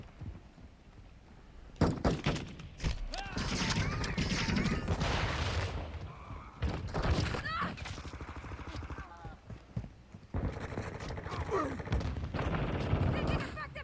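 Sustained gunfire from a Vaznev-9K submachine gun in Call of Duty Modern Warfare II, with dense bursts and impacts filling most of the clip amid loud game action and occasional radio-style voice callouts.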